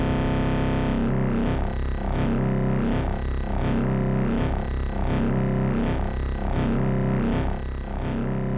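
A buzzy, distorted synthesizer tone from an Industrial Music Electronics Kermit MK. 3 pulses in a steady rhythm about once per second, a sine LFO sweeping its wavetable timbre back and forth.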